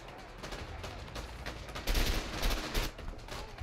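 Gunfire crackles in A Way Out, a rapid string of shots growing louder and denser midway, fairly distant and moderately loud in a chaotic firefight.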